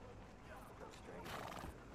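A horse whinnies in the video game Red Dead Redemption 2 amid ambient outdoor noise, with hoof clops and a brief louder burst at the very end.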